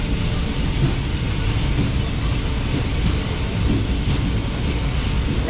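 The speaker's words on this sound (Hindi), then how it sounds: "यहाँ पे WDS 6 लोकोमोटिव यार्ड से आ रहा है" WDS 6 diesel shunting locomotive rolling in from the yard on a cold early morning near Bhusawal, a steady, continuous low rumble and rail noise throughout without clear breaks.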